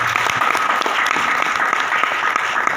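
Seminar audience applauds in a dense, continuous burst of many hands clapping, loud and close, with no voices over it.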